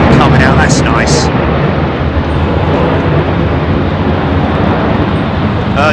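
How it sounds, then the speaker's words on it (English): A Vietnam Airlines Boeing 787 departs London Heathrow runway 27R with a loud, sustained jet roar that stays strong throughout, while a voice talks briefly over it near the start. "Vietnam Airlines 787 coming out, that's nice."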